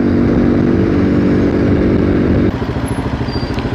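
A Lifan X-Plore 200 motorcycle engine runs loud and close, a dense steady roar giving way to a pulsing, throbbing drone as the throttle changes, with no voices.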